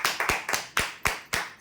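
Audience clapping for prize draw winners at a weekly lucky draw event, six or seven sharp, distinct claps in a short, uneven burst, close and fairly loud with no talk.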